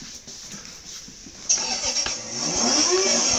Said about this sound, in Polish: Odpaliłeś samochód, znowu?